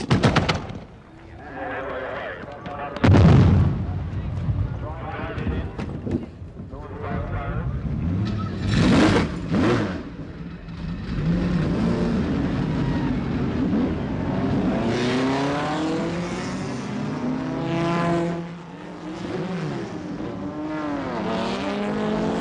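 Late-1960s race cars, including a Frank Matich SR3, roar off the starting grid at a Le Mans-style start, engines revving and droning together in a loud, sustained blare with sharp bangs early on.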